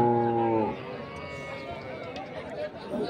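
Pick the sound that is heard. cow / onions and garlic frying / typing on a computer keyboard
cow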